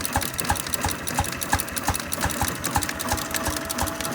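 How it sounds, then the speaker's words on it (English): An antique Bessemer generator engine chugs with a rapid, regular knocking beat, running steadily at a moderate pace under about 600 watts of load at a show, heard close up without talking. "Hear the engine working? Bump, bump, bump, bump,"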